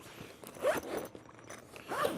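A zipper on a padded nylon camping chair case being pulled open in several short strokes, close and fairly quiet, with no talking.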